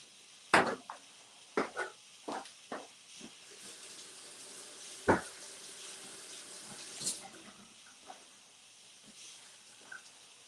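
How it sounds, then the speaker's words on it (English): Tap water runs steadily into a sink while hands are rinsed after hand dyeing yarn, a continuous close hiss broken by a few sharper splashes and knocks. "let me go rinse my hands"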